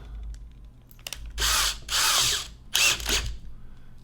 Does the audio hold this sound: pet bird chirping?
no